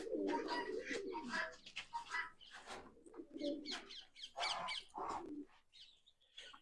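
Pigeons cooing nearby in a bird enclosure, soft repeated throaty coos mixed with faint chirps and a brief flutter of wings, with no talk.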